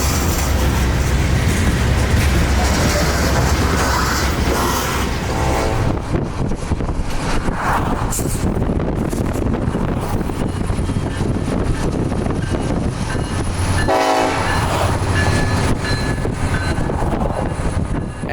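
A unit train rolls past on the S-Line in a loud, continuous rumble of wheels and rail noise, with screeching tones and clanks partway through and steady wind buffeting.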